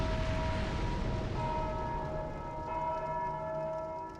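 A bell in the Dark Souls 2 video game rings out with a sustained, resonant tone that hangs steadily and decays slowly over a dense, loud game soundscape, with no talk.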